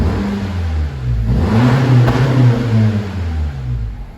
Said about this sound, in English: But there's a nice hum, which means it makes you feel like you're in a car that's just a little bit more special than a normal car.